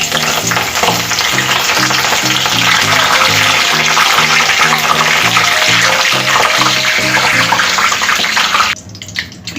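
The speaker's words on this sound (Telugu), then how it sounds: "ఇప్పుడు కరివేపాకు కూడా ఫ్రై చేసుకుందాం." Curry leaves fry in hot oil in a pan, a dense, continuous loud sizzle and crackle with a rhythmic scraping pulse underneath, cutting off abruptly near the end.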